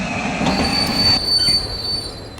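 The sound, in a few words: train wheels squealing after emergency chain is pulled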